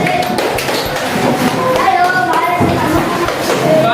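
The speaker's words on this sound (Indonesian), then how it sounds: "Kasih tepuk tangan dulu." Children in a primary school classroom clap their hands in a loose, scattered burst of taps, with excited kids' voices chattering over the clapping throughout.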